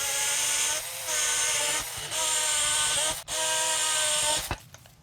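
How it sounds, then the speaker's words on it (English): A cordless drill with a dull bit and low battery whines steadily in four long bursts while drilling pilot holes, with short pauses between them, loud and close, ending abruptly. "I think this bit is dull and this drill is due for a charge."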